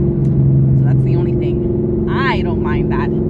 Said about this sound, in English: you can hear the exhaust now